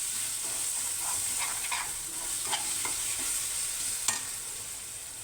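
Ginger paste frying in a pan is stirred steadily, a soft continuous sizzle broken by scraping strokes of a spoon and one sharper clack near the end, no voices.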